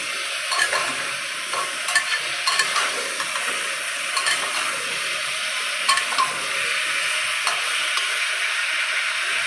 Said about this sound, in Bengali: একটু নেড়ে চেড়ে নিলাম আলুগুলো